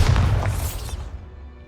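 A single Bombarda spell blast in a video game booms loud and close, then its rumbling tail fades away over a second and a half.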